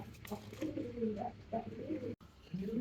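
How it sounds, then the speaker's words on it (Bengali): White Pomeranian pouter pigeons coo in low, rolling calls at a pigeon farm in Natore, several overlapping coos close by with a brief gap near the end. "এখানে তো একজোড়া সুপার কোয়ালিটি সাদা পমিনিয়ান পুটা দেখতে পাচ্ছি"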